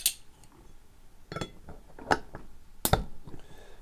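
Opening a bottle of 2017 Firestone Walker Parabola imperial stout produces a few light glassy clinks and a sharp, close pop, with brief handling clatter between them.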